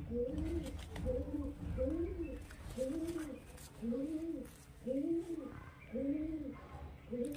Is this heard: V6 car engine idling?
no